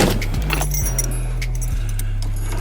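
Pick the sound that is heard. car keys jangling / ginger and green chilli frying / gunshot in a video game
car keys jangling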